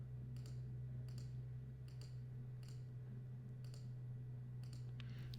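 Soft mouse clicks at a steady pace, about one per second, while a pen tool traces around a shape in graphics software, faint over a low constant electrical hum.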